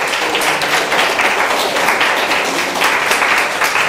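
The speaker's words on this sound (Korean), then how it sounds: "우리 유초동부 지체들을 위해서 박수로 격려하며 축복해 주시겠습니까?" A church congregation at a Sunday worship service gives steady, dense applause for the kindergarten children, many hands clapping together at a constant level from start to end.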